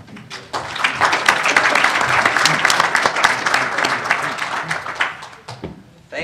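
A conference audience in a hearing-style setting applauds as a congressman is introduced, with a dense burst of close clapping that swells quickly, holds for several seconds and then tapers off.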